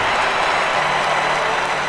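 Steady crowd applause fills a stadium after a Swedish athlete's run in the London 2012 Olympic Games video game, a continuous dense wash of clapping with no talk over it.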